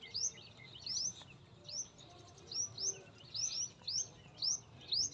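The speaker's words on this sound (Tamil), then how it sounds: "பறவைகள் குரல் கேட்குது, சத்தம் கேட்குதா?" Birds sing in a green farm garden on a morning, with repeated bright chirping phrases rising and falling in a loose rhythm over a low, quiet outdoor background.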